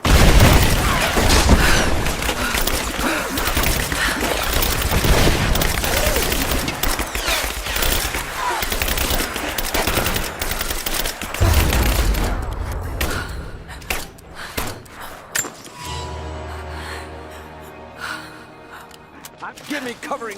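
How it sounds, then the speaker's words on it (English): Gunfire in the Rise of the Tomb Raider video game, with dense bursts and booms under loud, busy action sounds and gasps, then thinning to scattered shots with a quieter tail. "Give me covering fire!"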